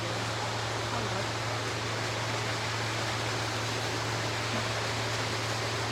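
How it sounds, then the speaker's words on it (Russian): Water from an indoor waterfall at a spa pool tumbles in a constant, loud rushing roar over a low steady hum, with no voices. "Плохо слышно из-за водопада."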